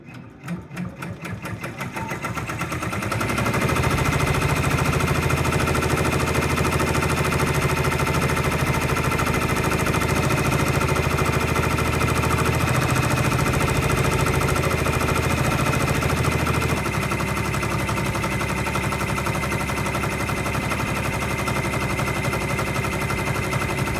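An embroidery machine stitches a design onto a fabric treat pouch, its fast steady needle chatter running loud and continuous for about thirteen seconds before the rhythm shifts slightly and carries on alone.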